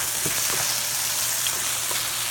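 Hash browns frying in olive oil in a pan give off a steady, dense sizzle with faint crackles throughout, heard up close with no one talking.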